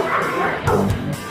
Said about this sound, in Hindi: American ban dog.